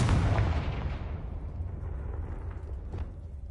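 A Confringo blasting spell goes off in a video game with a loud, booming explosion that starts heavy and full, then decays into a rumbling, crackling tail that fades over a few seconds.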